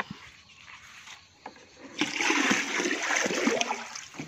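Water poured out beside a home garden, rising into a steady close splashing gush after a couple of seconds of faint trickles and drips, with no talking.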